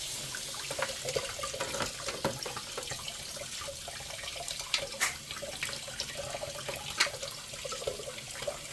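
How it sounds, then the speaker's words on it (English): Water runs steadily through a plastic AeroGarden Harvest Elite Slim part and flushes out the other side, a continuous close trickle with small splashes and drips throughout. "So I'm putting water through here, and it's flushing out the other side."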